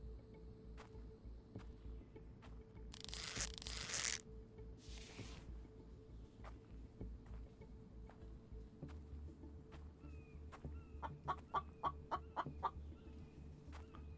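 A video game chicken gives a rapid run of short clucks near the end, faint and close, after quiet ambience marked by soft footsteps and two loud bursts of noise.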